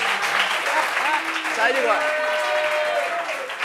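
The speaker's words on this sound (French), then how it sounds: "Applaudissements pour Solo Badges." Studio audience applause at a French talk show, a brief wash of clapping mixed with overlapping speech and voices on top.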